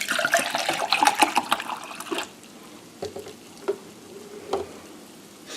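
Apple juice pouring out of a jug in a splashing, gurgling stream for about two seconds, then stopping, with a few soft drips and knocks afterward.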